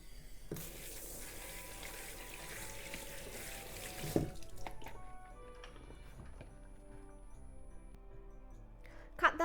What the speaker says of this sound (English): Then rinse off the salt.